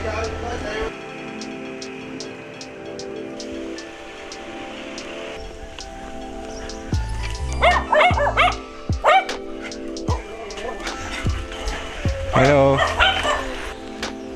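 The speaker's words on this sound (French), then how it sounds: "Il est bien séché ce petit chien." A small dog in Vietnam's Mekong Delta yips, barks and whimpers in quick bursts close by, with a voice briefly speaking over it.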